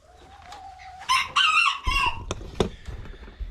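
A rooster crows nearby on a homestead, one loud drawn-out call rising and breaking, with a few clucks and thumps around it.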